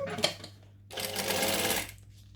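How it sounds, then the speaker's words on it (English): A sewing machine hums in a quiet room, top stitching a bag: a short whir, a pause, then a steady run of stitching for about a second before it stops. "I'm just top stitching around"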